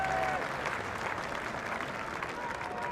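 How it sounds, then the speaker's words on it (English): A knowledgeable cricket crowd in Wellington applauds a batsman's century at a New Zealand versus England Test match, with sustained, even clapping spread across the ground and a commentator talking over it. "Brilliant innings, Kane Williamson, and well appreciated by this knowledgeable Wellington crowd."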